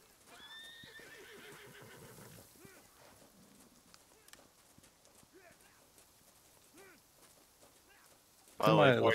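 A horse whinnies briefly early on in the game Holdfast: Nations at War, followed by scattered hoof clops and game sounds, ending in a sudden loud burst.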